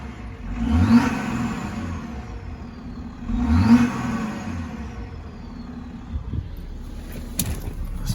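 A 2010 BMW X5 35d diesel with the DPF deleted and a race pipe fitted revs twice in quick succession. Each rise swells and falls back to a steady, fairly loud idle, with no talk over it.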